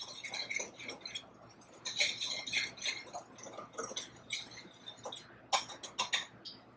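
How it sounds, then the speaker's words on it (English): A whisk clicking rapidly against a bowl while mixing apple pancake batter made with freshly milled flour, giving quick, bright ticking strokes in uneven bursts, close and fairly quiet, with no talking. "I'm going to whisk this together really fast"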